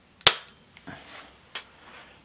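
A Diana Mod 6 air pistol fires a single pellet with one sharp, loud crack close by, followed by a couple of softer mechanical clicks and thumps.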